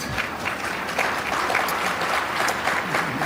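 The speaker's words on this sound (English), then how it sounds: "If you want to clap, don't be shy. Go ahead and clap." Steady applause from a church congregation at a Daystar gathering, dense and sustained through the whole stretch with no pause.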